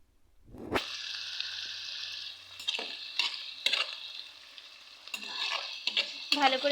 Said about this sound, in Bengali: পেঁয়াজটাকে আমি ভেজে নিলাম